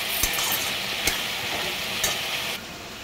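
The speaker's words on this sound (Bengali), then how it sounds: "এর মধ্যে নুন দিয়ে এবার নেড়ে চেড়ে" Salted food frying in a pan on a home stove as it is stirred, a steady close sizzle with a few sharp scrapes of the spoon against the pan, no voices.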